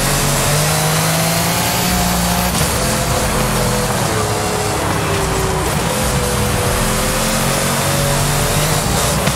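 A Ferrari FXXK in Forza Horizon 5 revs continuously during a race, its engine droning loud and steady with rising and falling pitch throughout, no voices over it.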